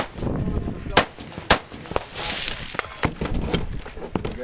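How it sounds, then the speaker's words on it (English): Shotgun slugs fired at a 3-gun shooting match boom out as a series of sharp, loud shots, roughly half a second apart at first, then spreading out, over crowd murmur and distant voices. "We gotta shoot the slugs from behind there."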